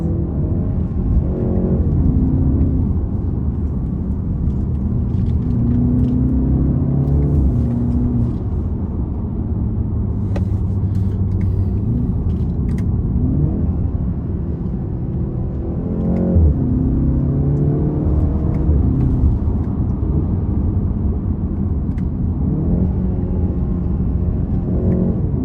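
A 2021 BMW 330i driven aggressively, its engine droning loud and close from inside the cabin, rising and falling repeatedly as it revs through gears, with a steady road rumble underneath.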